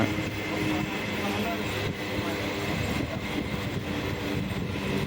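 A Karaikal–Thanjavur passenger train rolls into Adiyakkamangalam railway station, a steady, loud rumble of wheels and carriages with continuous broadband rail noise and no distinct pauses.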